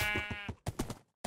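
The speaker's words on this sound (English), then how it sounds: "Okay, here's a sheep." A sheep in a realistic Minecraft-style animation lets out a loud, wavering bleat up close, followed by a few shorter bleating pulses.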